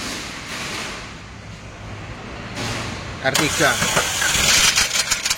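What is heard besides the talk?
car engine starting and idling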